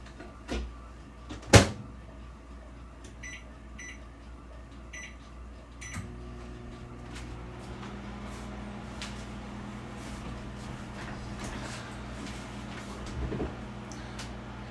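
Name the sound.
microwave oven heating a beef patty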